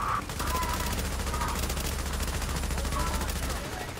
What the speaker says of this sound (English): I was surprised that Marco Style was actually running an LMG.